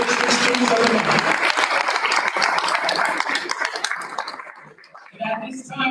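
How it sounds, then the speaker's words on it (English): Applause at a school board meeting honoring Mount High School students of the month: dense, sustained clapping from a crowd fills the room, thinning out toward the end as a few claps linger. "round of applause for Mount High School students of the month."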